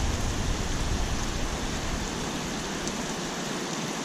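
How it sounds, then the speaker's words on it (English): Small hail falls outdoors, a dense, steady hiss of tiny pellets striking surfaces that holds constant and fairly loud throughout, with no voices. "it just started to hail just a little tiny bit, and it's really small hail"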